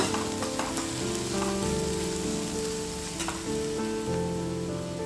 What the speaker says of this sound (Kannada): ಅದನ್ನು ಕೂಡ ಈರುಳ್ಳಿ ಜೊತೆ ಚೆನ್ನಾಗಿ ಮಿಕ್ಸ್ ಮಾಡಿ ಹುರಿಬೇಕು